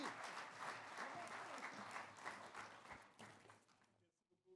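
A large audience applauds the evening's hosts at a sports tribute gala in Mauricie. Dense, sustained clapping fills the room, then thins out and fades near the end.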